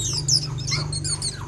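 A caged decoy bird kept for trapping chirps in quick, high, close twitters, several short calls in a row over a steady low hum.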